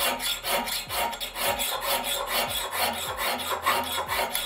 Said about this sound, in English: So now we don't grind purely parallel on the sides, but we do a more triangular shape.